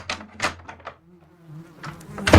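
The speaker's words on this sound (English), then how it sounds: "Holy shit, bees!" Bee buzzing drones softly for a moment between bursts of louder activity, with a sharp close clatter at the end.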